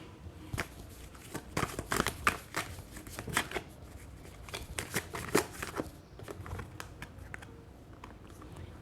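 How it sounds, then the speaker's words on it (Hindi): Tarot cards being shuffled and drawn during a reading, a quiet run of soft riffling and slapping card sounds in irregular bursts, close and faint. "एक और कार्ड निकालते हैं।"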